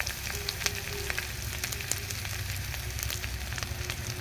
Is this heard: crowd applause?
no